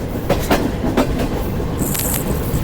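The Shalimar Express runs through Kacha Khuh railway station at over 50 km/h, heard from inside a Business Class coach: loud, rhythmic wheel clacks over steady rail rumble, then a brief high metallic squeal.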